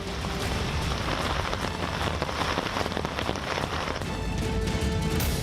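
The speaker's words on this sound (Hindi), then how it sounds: "मुंबई में आसमान से आफत की बारिश हो रही है।" Heavy monsoon rain pouring down in Mumbai, a dense continuous hiss and patter of drops hitting surfaces, loud and steady with no voices.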